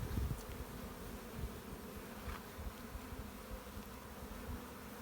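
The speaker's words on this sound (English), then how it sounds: "there should be enough bees in here" Honey bees in an open hive hum in a dense, continuous buzz, fairly faint but steady, with individual bees flitting close past now and then.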